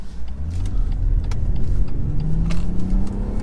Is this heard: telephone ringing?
no